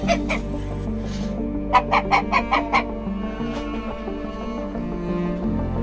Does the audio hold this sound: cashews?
no